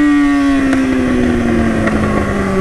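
A motorcycle engine hums steadily up close with a sustained drone whose pitch slowly falls, no voices over it.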